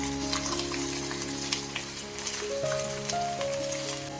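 Chicken pieces laid onto golden fried onions for Arabic mahmoos rice sit in a dense, continuous sizzle with crackling pops, close and fairly loud, over a steady low background hum.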